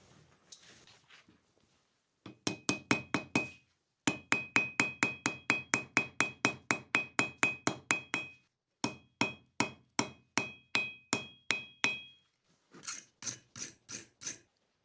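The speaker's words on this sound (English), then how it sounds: "I'm going to take one more welding heat just to blend the seam." Hammer blows forge-welding a steel seam at a welding heat, sharp ringing strikes in fast steady bursts of about twenty, pausing between runs, near and alone.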